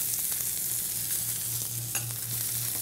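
Filet mignon steaks sear in a very hot pan, giving a steady, close, dense sizzle that holds unbroken throughout, with a brief crackle near the end.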